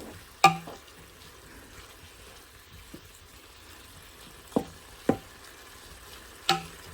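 Chicken pot stickers stir-fry in a pan with a faint, low sizzle under a few sharp, sparse clicks and knocks, like a utensil tapping the pan, and no voices.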